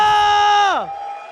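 A cheering esports arena crowd at Soebel Arena during an RRQ versus EVOS Mobile Legends match, with a loud sustained whoop that swoops downward and fades under the caster's voice.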